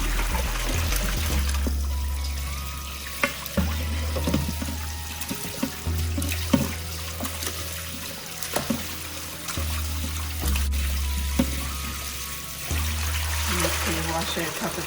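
Tap water runs and splashes intermittently into a sink as raw trout is rinsed clean, with the stream starting and stopping several times, close and steady.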